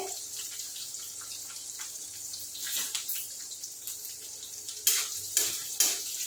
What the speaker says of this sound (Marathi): हिरव्या मिरच्या, लसूण जरा लाल झालं की मग आपल्याला टाकायचं आहे मीठ।